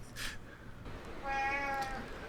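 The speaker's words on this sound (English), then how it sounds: "I love cats that sound old." A cat meows in a raspy, hoarse, old-sounding voice: a short call near the start, then a longer drawn-out meow, close and clear over faint background noise.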